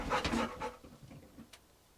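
Rosie, a dog on an allotment plot, panting in quick breathy bursts close by, fading softer toward the end, with no talking.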